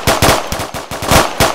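Rapid automatic gunfire in the military shooter ArmA 2, several loud close bursts in quick succession over about a second and a half, with no voices.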